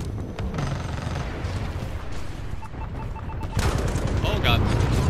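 Smart pistol gunfire in the video game Titanfall 2, a steady barrage of shots over constant background game noise, getting louder and denser toward the end.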